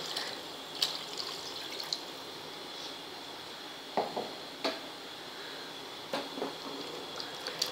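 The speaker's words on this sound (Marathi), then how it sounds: "हे बघा मी इथे वाटणाचं पण पाणी घालते।" Water poured from the ground-masala jar into a cooking pan for a black-eyed pea and potato curry, a faint steady trickle and pour with a few small clinks and splashes.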